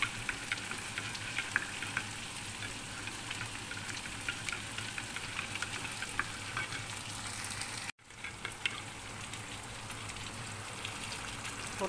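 Chicken curry sizzles and crackles in a pan as stock is poured in, a steady close frying hiss that cuts out abruptly for an instant near the end before picking back up.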